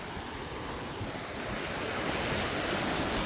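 Sea waves wash over shoreline rocks in a continuous broad rush of surf, swelling slightly louder toward the end, with wind noise and no voices.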